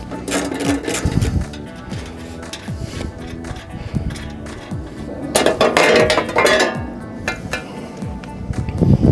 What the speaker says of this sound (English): I'm gonna take these two covers off to expose its drive system